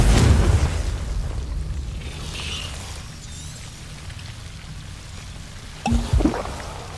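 Confringo blasting spell in Hogwarts Legacy: a loud booming burst at the start that fades into a rumbling tail, followed later by a brief second sharp pop and crackle.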